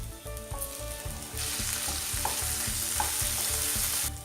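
Steady sizzling of tomato frying in a pan, with rhythmic stirring scrapes and a brightening hiss partway through, close up and without speech.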